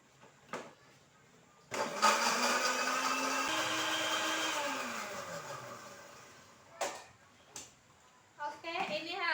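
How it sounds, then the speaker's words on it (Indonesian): A kitchen blender grinds a tomato-based spice paste for sautéed shrimp, a loud steady whir that runs for about five seconds, its motor pitch shifting partway through, with brief clicks and handling noises before and after. "Bunda blender ya."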